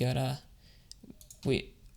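A few faint, quick computer keyboard key clicks sound between stretches of someone talking through an After Effects and Illustrator animation tutorial.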